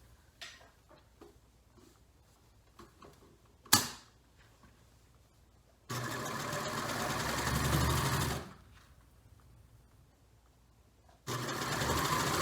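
A sewing machine top stitches fabric in two steady runs of rapid mechanical whirring, close and clear, between quiet stretches of small handling clicks and one sharp knock.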